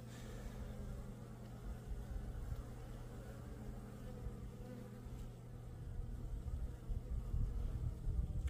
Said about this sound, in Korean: 자, 하단에 지금 벌이 모여 있잖아요.